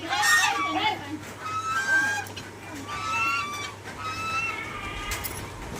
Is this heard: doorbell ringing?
no